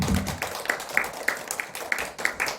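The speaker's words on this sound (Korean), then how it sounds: "우리 감사의 박수를 한번 하나님께 드립니다." A church congregation claps together in thanks, a dense, steady patter of many hands filling the room with sharper accents at a regular beat.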